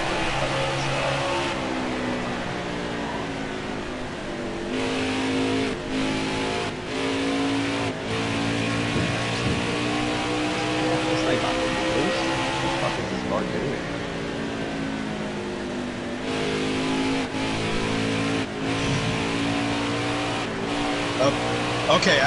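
A race car engine in a racing video game at Iowa drones at high revs throughout, with steady harmonic whine and brief dips as it lifts and reaccelerates, while a person talks over it.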